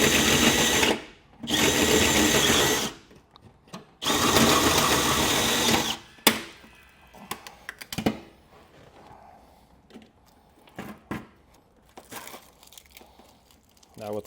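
Power drill boring a hole through a truck bed for a gooseneck hitch, with long loud whirring runs that stop and start, then scattered clatter and handling noises, close by.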